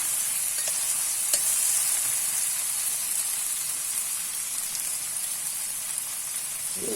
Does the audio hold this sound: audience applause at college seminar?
no